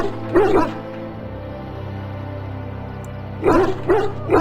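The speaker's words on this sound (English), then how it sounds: "Now I can treat the dog properly, poor fella." An injured dog in the Dragon Age: Origins video game whimpers and yips in short bursts, one near the start and a cluster of three toward the end, over a steady low hum of game ambience.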